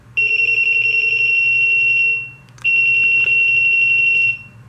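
Black & Decker SMK6D/M1 smoke alarm sounding during a test: a loud, piercing electronic beep tone held for about two seconds, a brief gap, then another long tone, close to the listener.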